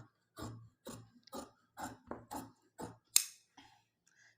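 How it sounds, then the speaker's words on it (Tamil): Tailoring scissors cut through blouse fabric for a lehenga in a slow series of about eight distinct snipping strokes, each a short rasping crunch with quiet gaps between, close-up and alone. "இப்போ நம்ம இதை அப்படியே கட் பண்ணி எடுத்துக்கலாம்."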